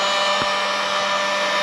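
A heat gun blows steadily on a Corvette crankshaft bolt, a close, even, breathy roar like a hair dryer that holds for the whole stretch without pause.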